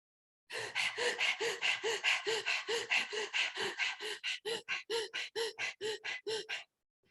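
Rapid, rhythmic panting breaths, about twenty quick in-and-out puffs in a steady run, close and alone, imitating a dog's panting in a pranayama breathing exercise.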